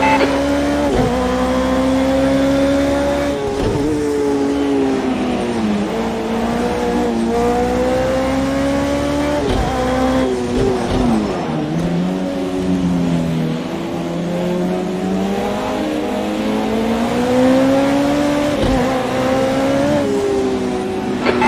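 Race car engine in a racing sim, a loud continuous revving tone that climbs and drops with gear shifts, with brief tire squeals and other cars nearby; no talk.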